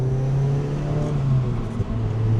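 A tuned Mazda NC Miata with a Fab9 N1 tune accelerates onto a highway, its engine holding a steady mid-pitched drone heard from inside the cabin with a slight dip near the end.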